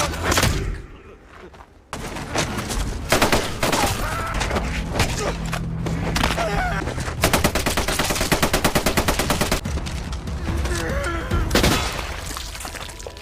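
Rapid bursts of machine-gun fire in a film crackle loudly, with sustained automatic volleys and booms amid a dramatic soundtrack and a few muffled voices.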